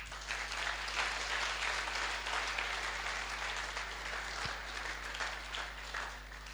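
A church congregation applauds, dense, steady clapping filling the space for several seconds over a low constant hum, moderately distant.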